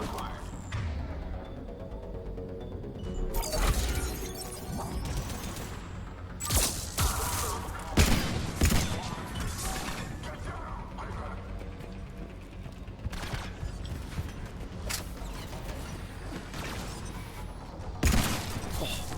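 Pistol shots ring out in a Mass Effect firefight, with several sharp, loud cracks scattered irregularly over a background of game ambience and mechanical noise.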